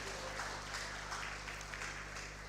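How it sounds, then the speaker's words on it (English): Audience at the Zuma International Film Festival's NFC annual film lecture clapping for the First Lady of Kwara State, a continuous, faint, distant patter of applause over a steady low electrical hum. "Please, a round of applause for Her Excellency."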